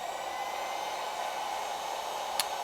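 Warm air blows onto epoxy for a snowboard edge repair to thin it. A steady, close blowing hiss with a whining hum runs throughout, broken by one brief click near the end.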